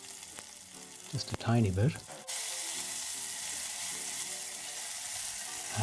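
Chili pepper hits a hot pan while making a plant-based burger, setting off a loud, steady sizzle and frying hiss that fills the clip after a brief quiet remark and some stirring.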